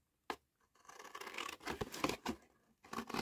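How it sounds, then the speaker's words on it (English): Scissors snip and scrape through paper or card at a craft desk, a few sharp close cuts between softer rustling and rubbing, no talking. "use the scissors."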